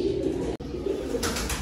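Pigeons cooing steadily in a small home mini zoo enclosure, a soft low warble continuing throughout, close by with light background noise.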